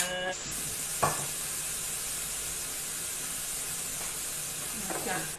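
Tomato sauce added to a stir-fry in a hot pan, giving a steady sizzle and hiss with a few sharp stirring scrapes, while someone speaks faintly in Thai.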